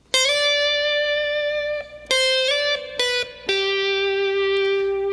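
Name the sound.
slide guitar lick played slowly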